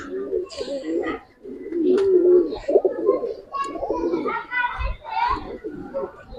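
Giribaz pigeons coo in repeated soft throaty phrases at close range, mixed with people talking over them through most of the stretch.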